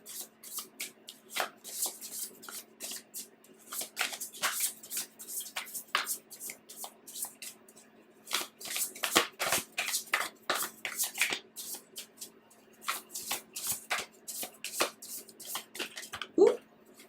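Tarot cards are shuffled by hand in a quiet room, a long run of soft, close riffling flutters and taps in irregular bursts with short pauses.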